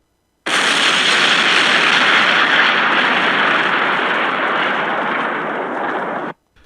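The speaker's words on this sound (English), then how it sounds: "the result was a massive explosion destroying the truck" A massive explosion tears through a truck loaded with barrels of fear toxin at Ace Chemicals, set off by gunfire. It comes as one sudden, loud, roaring blast that rumbles steadily for several seconds and then cuts off abruptly.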